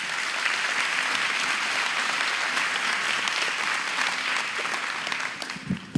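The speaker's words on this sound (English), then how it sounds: "Give them all a round of applause" A crowd at the Miss Tomball 2026 pageant applauds volunteers, staff and sponsors with sustained, full clapping that thins out near the end, ending in a few scattered claps.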